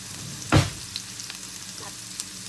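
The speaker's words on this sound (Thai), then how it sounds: "เราก็พริกกับกระเทียมที่โขกไว้ใส่ลงไปนะคะ" Pounded chili and garlic hit a hot pan for a Thai stir-fried squid with spring onion, giving one loud burst of sizzle that quickly settles into a faint, steady crackle with no talking.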